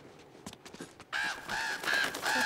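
Crows cawing in the video game Uncharted 2: Among Thieves, a run of harsh repeated caws that grows loud and continuous over faint game ambience.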